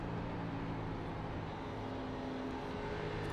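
Race car engine droning steadily at Darlington in a racing video game, a constant loud hum with no clear revving changes and no talk.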